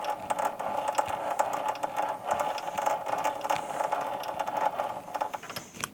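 A metal lathe cuts external threads with a shallow depth of cut, giving a steady, busy mechanical clatter and fine rattling chatter, close and continuous at moderate level without speech.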